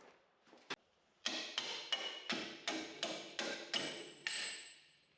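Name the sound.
hammer and punch driving out bolt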